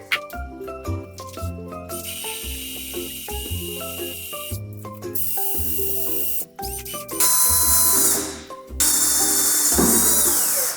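Power drill boring into a wall to hang a heavy mirror, short bursts of whirring broken by pauses, clinks and tool handling, close and fairly loud, alone without talk.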